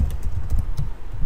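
A computer keyboard clatters with quick, close key taps in a brief, steady run of typing, with no voice over it.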